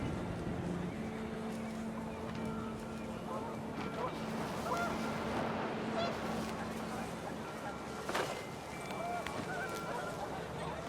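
Panicked geese in the video game What Remains of Edith Finch honk faintly and intermittently over a constant rush of wind, the calls sounding distant.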